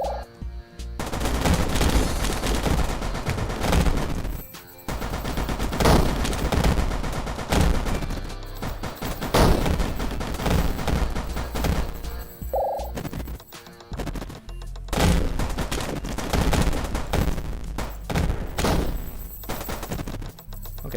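Rapid gunfire from the video game Yawnoc, dense bursts of shots repeating loudly and almost continuously, with brief gaps between volleys.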